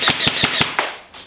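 An M4 190-round mid-cap airsoft magazine dropping free from the gun, heard as four quick, sharp, evenly spaced clacks followed by a softer thump, loud and close.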